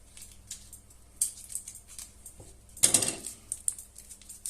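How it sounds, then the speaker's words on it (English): Scissors snip open a package of local Polish cheese in a home kitchen, a short burst of crisp cutting and crinkling plastic near the middle, surrounded by quieter handling clicks and rustles. "So we will need some scissors to open it."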